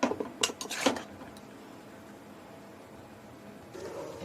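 A spatula scrapes and clanks against a kadai as jackfruit is stirred and fried, a quick burst of metallic knocks at the start, then a quiet sizzle, with more faint scraping near the end.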